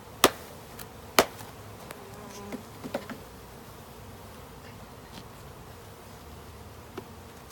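A swarm of honey bees hums and buzzes softly and steadily while a new hive is set up in spring, broken by a few sharp taps and knocks of equipment. No one speaks.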